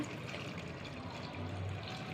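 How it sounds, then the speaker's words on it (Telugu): Water poured into a pan of tripe (boti) curry frying in oil with green chillies, a faint, steady splashing gush that lasts about two seconds. "ఇప్పుడు నేను వాటర్ వేస్తున్నా"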